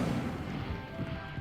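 An Incendio fire spell cast in Hogwarts Legacy lands as a loud, close whooshing crash that rumbles and crackles briefly before tapering off.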